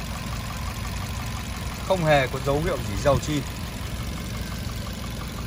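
The 1.2-litre engine of a 2009 Daewoo Gentra X idles steadily and smoothly at a low, even hum while someone talks over it nearby.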